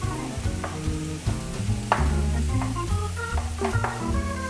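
Chopped eggplant frying in a pan without olive oil for a vegetable lasagna, a steady close sizzle with repeated scraping and stirring clicks throughout, no voices.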